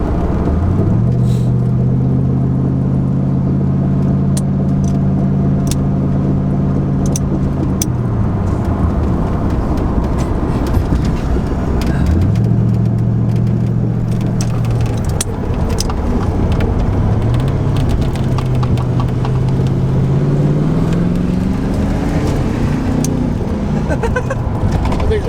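Ford Fox body Mustang with dry-rotted tires driving with a loud, steady engine drone, its pitch rising and then dropping sharply at each gear shift, recurring several times across the clip.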